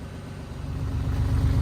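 An old Volkswagen Beetle engine idles roughly and unevenly, a steady low rumble close by that grows slightly louder toward the end, with no talking.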